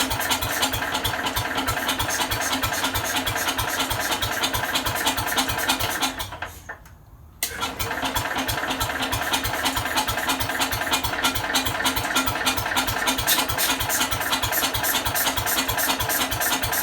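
A Jacobsen machine's engine cranks and runs with a steady, loud rapid thrum, cuts out briefly for about a second partway through, then catches again and keeps running to the end.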